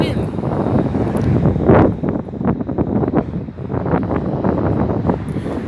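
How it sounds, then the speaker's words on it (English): Strong gusts buffet the microphone at Cajon Pass, producing rough, continuous low rumbling that swells and dips throughout, with a person talking over the noise. "I'm holding my tablet very good because the wind is blowing me up."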